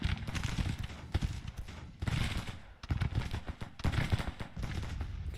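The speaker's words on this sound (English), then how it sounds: "Let's get our artillery into action here." Cannon volleys from a Civil War battle at Gettysburg near Culp's Hill in the strategy game Grand Tactician, loud dense booms and rumbling fire in several bursts with brief lulls between them.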